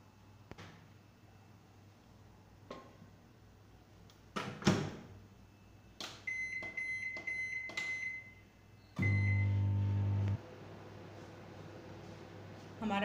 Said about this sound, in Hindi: अब हम इसको माइक्रोवेव में 4 मिनट के लिए माइक्रोवेव करेंगे।